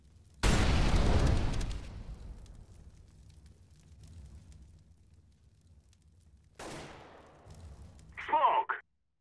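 An incendiary grenade in CS:GO during a competitive match on Cache: a loud burst of fiery roar and crackle near the start that fades over a second or so, later followed by a softer rushing swell and a short clatter at the end.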